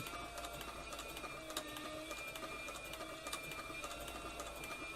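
A Cowboy CB4500 leather sewing machine running at speed, giving a steady, dense mechanical whir with rapid stitching clatter that holds constant for the whole stretch, close and fairly loud with no voices.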